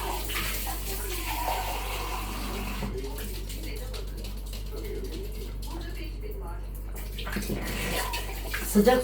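Hot water runs from a kitchen tap in a home as coffee is being made, a steady splashing stream under a voice talking nearby.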